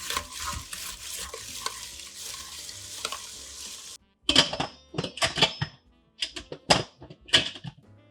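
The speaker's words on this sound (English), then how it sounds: "Give it a stir." Cranberry sauce ingredients with brown sugar and orange juice being stirred in an Instant Pot, a utensil scraping and clacking against the pot in irregular bursts, continuous at first and then in short separated strokes.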